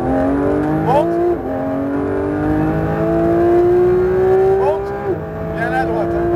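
A car accelerates hard through a corner on a track, its engine note climbing steadily and loud, broken by two brief dips that sound like gear changes before it rises again.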